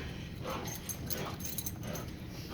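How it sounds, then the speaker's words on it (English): A friendly dog whimpers softly in short, faint bursts, heard up close against a quiet background. "He's a very, very, very friendly dog."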